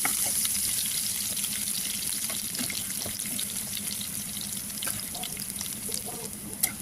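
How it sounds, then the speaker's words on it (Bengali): A steady, soft sizzle of chopped garlic frying in hot oil, with faint crackles and pops scattered over a continuous hiss. "তেলটা গরম হয়ে গেছে, এর মধ্যে দিয়ে দেবো রসুন কুচি, রসুনটা একটু ভেজে নেব।"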